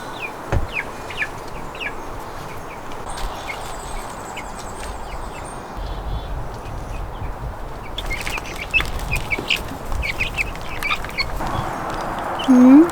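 Baby chicks peep and cheep inside a chicken coop, with scattered high chirps over a steady background hum and occasional louder clucks near the end.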